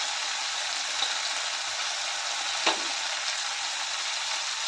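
Onion, tomato and long-cut capsicum sautéing in hot oil, a steady even sizzle throughout with a couple of brief soft stirring knocks, close and alone without talk.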